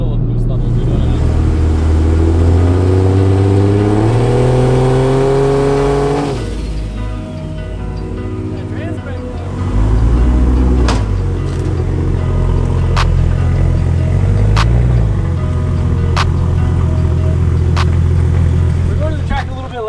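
A Barra-swapped Ford GT350 revs at a drag strip, its engine climbing in pitch through loud rising sweeps, then dropping to a rough idle with sharp pops, while voices talk over it.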